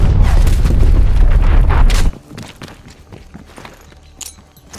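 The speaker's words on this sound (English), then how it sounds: "Hostile artillery targeting active. Net call, incoming artillery." Artillery explosions rumble in a Call of Duty: Black Ops Cold War match, a heavy, loud sustained barrage for about two seconds that cuts off abruptly, followed by quieter game sounds and scattered clatter.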